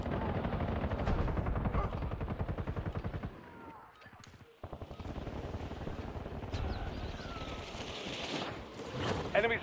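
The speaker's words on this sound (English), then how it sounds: "I'm gonna shoot." Video game gunfire, rapid loud bursts of automatic shots close by, pausing briefly before resuming, with a voice speaking over the shooting.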